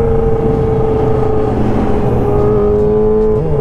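A Kawasaki ZX25R motorcycle accelerates hard while racing a ZX4RR on a touring road. Its engine holds a loud, steady, high-pitched whine close by for the whole stretch, rising slightly near the end.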